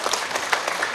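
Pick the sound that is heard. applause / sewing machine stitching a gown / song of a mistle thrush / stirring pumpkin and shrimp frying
applause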